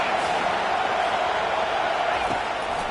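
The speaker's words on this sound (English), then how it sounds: "Decibels rising as the crowd gets behind this defense on 3rd down" A football stadium crowd roars steadily behind the defense on third down, a dense continuous wash of cheering at constant volume with faint commentary mixed in.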